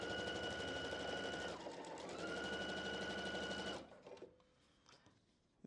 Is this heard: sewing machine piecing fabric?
yes